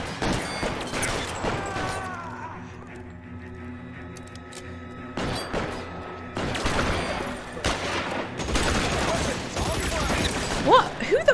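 Gunfire in the video game L.A. Noire, with bursts of shots and impacts scattered through the scene and a voice talking over the action.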